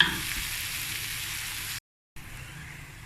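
Ground black pepper and garlic paste frying in a hot pan for black pepper sauce, giving a steady close sizzle that drops out for a brief gap, then resumes more softly.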